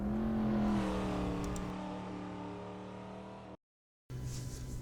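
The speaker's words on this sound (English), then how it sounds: "So I just took a lap in this C5 Corvette Z06 on the Nordschleife" A Corvette C5 Z06 engine in Assetto Corsa on the Nordschleife revs in a sustained, rising drone, then cuts to silence for a moment before the engine note returns.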